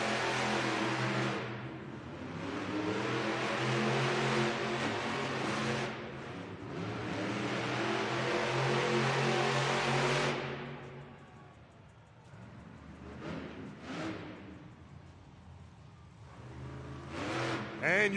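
Monster truck engines revving at a Monster Jam JCB racing event in an arena, Monster Mutt Dalmatian among them: a long, loud roar that swells, dips and builds again, with crowd noise and an announcer talking over it.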